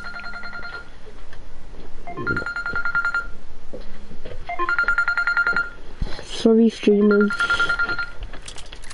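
A telephone rings in repeated trilling bursts, several rings separated by short pauses, with a few dial-tone-like notes near the end while someone talks over it.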